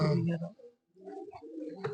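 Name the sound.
pigeons cooing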